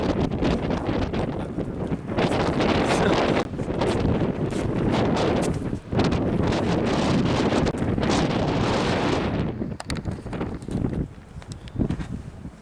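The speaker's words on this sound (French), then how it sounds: "Il y a vraiment du vent de baiser" Strong wind buffets the microphone outdoors on a cold day near a forest, a loud continuous roar that gusts and briefly drops before surging again, with no talking.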